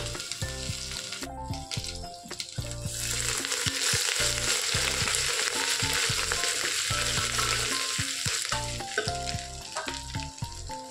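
Cashew nuts fry in a pan for ven pongal with a continuous sizzle, while music plays loudly over it and no one speaks.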